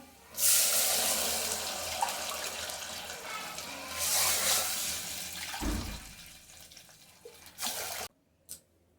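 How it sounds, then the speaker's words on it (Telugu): Four glasses of water poured into a cooking pot for bagara rice, loud gushing pours in bursts with brief pauses between, close and alone, ending in a short thud and near silence. "2 గ్లాసులకి నేను 4 గ్లాసుల వాటర్ అయితే వేసుకుంటున్నా"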